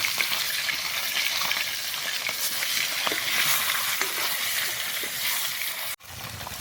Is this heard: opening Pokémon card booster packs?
no